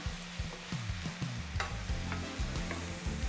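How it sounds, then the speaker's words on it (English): Mushrooms sizzle steadily in a frying pan while a utensil stirs them in quick, repeated scraping strokes, close and clear with no talking. "we're gonna get this mixed together for about 5 to 6 minutes until these mushrooms are golden and has released most of their moisture"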